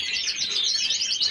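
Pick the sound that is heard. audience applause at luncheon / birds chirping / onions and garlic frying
birds chirping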